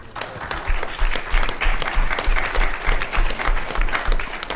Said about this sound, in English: I hope you'll give them an applause